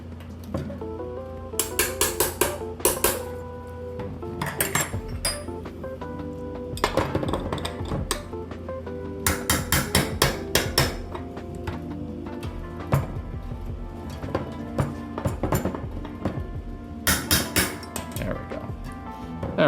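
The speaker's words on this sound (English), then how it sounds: "hammering these in" Metal dust caps being hammered into a bicycle hub on a 1979 Raleigh Grand Prix, sharp clinking taps in repeated bursts, close and fairly loud, with a low steady hum underneath.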